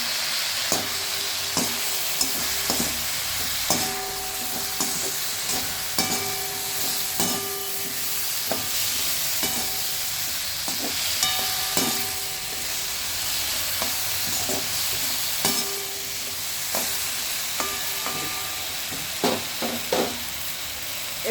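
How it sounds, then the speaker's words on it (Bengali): Vegetables with eggplant and turmeric fry in a pan, a steady sizzle broken by repeated clinks and scrapes of a spatula stirring, close and without voices. "এবার সবজিগুলো আর একটু ভেজে জল দিয়ে দেবো।"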